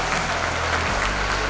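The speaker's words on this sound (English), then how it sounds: "let's start out by giving them a big round of applause." An audience at a school partnership event breaks into steady applause, a brief wash of many hands clapping together.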